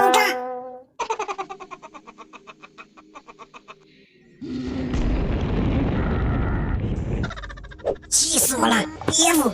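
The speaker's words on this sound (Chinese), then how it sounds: "这样食物都会爆炸。" A cartoon burst of exploding food in a dream scene from Friday Night Funkin': a loud, noisy blast of about three seconds follows bouncy chirping tones, and high squeaky voices come right after.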